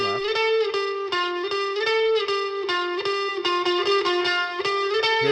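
An electric guitar track panned left plays with heavy distortion and effects. It holds a sustained driven note under a fast rhythmic picking pattern, loud, saturated and continuous, with no voices.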